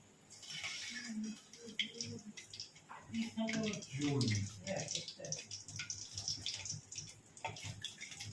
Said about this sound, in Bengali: এই বড়াগুলো তুলে এই নুন জলের মধ্যে ফেলবো